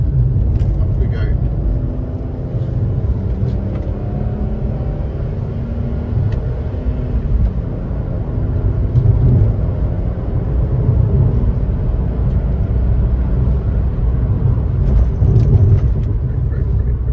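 An old automatic car is driven hard along a bumpy, off-camber road, its engine droning and shifting pitch as it drops from third into second, while someone talks steadily over the rumble from inside the cabin.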